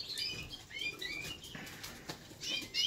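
A Bokhara trumpeter pigeon being handled for vaccination flaps its wings in several quick, close bursts, with a few faint scuffs in between.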